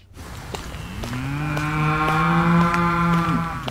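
An ox gives a single long, deep moo, loud and close, swelling steadily and then trailing off, with no talk over it.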